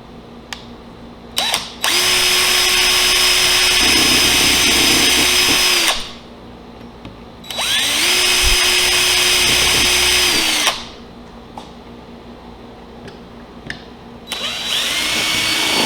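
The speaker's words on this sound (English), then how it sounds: "Pre-drilling with this long drill bit so I don't split anything out." Power drill pre-drilling with a long drill bit into wooden panels of a quilt display case, running in three steady whirring bursts of several seconds each with brief pauses between, loud and close.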